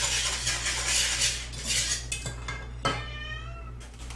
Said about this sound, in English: Sorry if you're not able to hear me over the beating of this whisk.